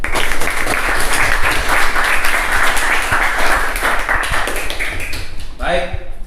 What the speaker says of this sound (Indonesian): Kita kasih aplaus dulu untuk kelompok 1.